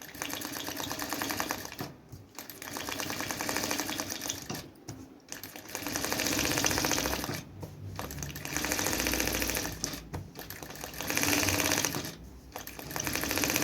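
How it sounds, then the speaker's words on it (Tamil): An electric motor sewing machine, run by foot pedal in a tailoring class, stitches in long bursts with a fast mechanical whirring chatter and short pauses between runs, close and fairly loud, with no talk. "இது வந்து நமக்கு மோட்ரு மிஷின் அப்படின்றதுனால காலுக்கு தான் இதில் வேலை இருக்குது"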